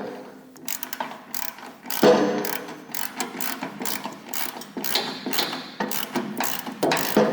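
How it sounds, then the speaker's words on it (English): A hand ratchet snugs up the nut on a glide plate wheel of a MUSKOX 26-84 snowblower with rapid, close, irregular clicking bursts across the whole stretch, punctuated by sharper metallic knocks. "Make sure that my ratchet got flipped the right way. And now I'll just re-snug everything back up."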